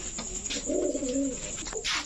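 Khoira-neck pigeons, a matched male and female pair, coo in a few soft, rolling low calls close by, with no talking.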